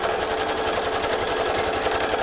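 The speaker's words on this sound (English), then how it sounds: "Now I'm stitching the center veins of each leaflet with this solid dark green thread." A sewing machine stitches leaflet veins with solid dark green thread, a fast, even rhythmic whir and needle patter running loud and close without pause.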